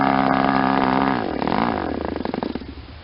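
Small O.S. 20FP model glow engine buzzing loud and close with a strong harmonic whine, its pitch wavering and dropping toward a rougher, pulsing idle near the end.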